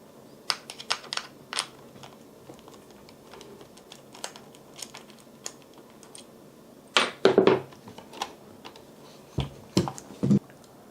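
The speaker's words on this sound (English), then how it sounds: "So let's first remove the wheel and then the cover" Small plastic clicks and light taps come from removing a lug nut and wheel on a Traxxas Slash RC truck. The clicks are close and irregular, with a denser cluster of knocks near the end and no talking.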